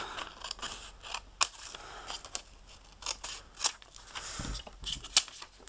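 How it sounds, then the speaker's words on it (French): Scissors snip by hand through old photo slides for scrapbook embellishments, a series of short, crisp cuts at an irregular pace, close and fairly quiet with no talking. "on va couper donc à la main"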